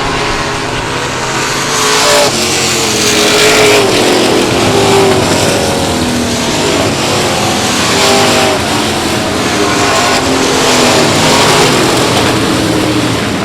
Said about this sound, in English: Here's number 42 car. He's working on the inside of Aaron Leday.